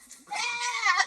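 A goat on the Philippines gives one close, wavering bleat that rises and holds for under a second, clear and alone.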